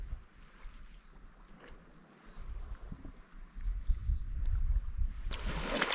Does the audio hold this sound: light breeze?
yes